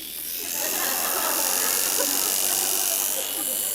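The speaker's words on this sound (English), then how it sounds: "this is a nose hair trimmer" A nose hair trimmer buzzing steadily and loudly up close, a continuous high-pitched electric whine lasting several seconds.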